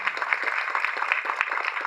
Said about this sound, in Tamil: இது தயவு செஞ்சு ஒரு பெரிய கைதட்டு கொடுத்துருங்க.